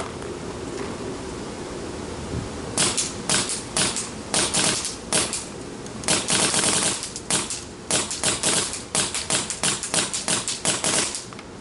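Empire Vanquish paintball marker with a Ninja 77 4500 SL air tank firing a long series of sharp, soft-sounding shots, alone and close, first in scattered bursts and then in rapid strings of snappy pops.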